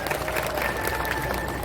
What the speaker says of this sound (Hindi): एक बार जोरदार तालियों से इनका अभिनंदन करें